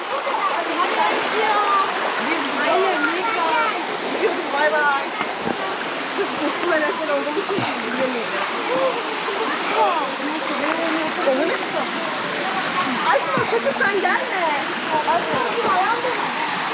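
Steady roar of a waterfall in a canyon at Tatlıca Waterfalls, Erfelek, Sinop, dense rushing and splashing water filling the scene continuously from start to finish, fairly close and loud.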